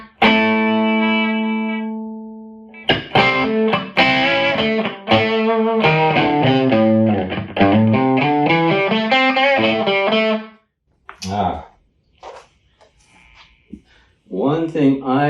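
Electric guitar running through a Line 6 Helix and Mesa Boogie effects loop with the loop bypassed, played as sustained notes and chords with a reverb tail. It rings loud and alone for about ten seconds, then breaks into short choppy bursts.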